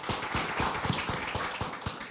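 An audience at a community coffee-and-conversation gathering applauds an at-large councilperson, with steady rhythmic clapping of moderate loudness and a faint murmur of background voices.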